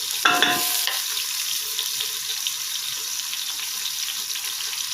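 Chopped onions and green chillies dropped into hot oil for pulao give a loud burst of sizzling at the start, then a steady bright frying hiss that carries on evenly with no one talking.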